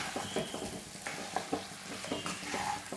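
Spicy Chettinad chicken fry being mixed in a hot pan, soft sizzling under a series of scraping, clattering stirs, close but fairly quiet, no talking.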